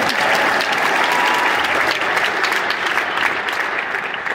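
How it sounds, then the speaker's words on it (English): An audience at a Christmas concert gives loud, dense, sustained applause as the orchestra is introduced. Many hands clap at once in a continuous wash for several seconds. "please give a round of applause"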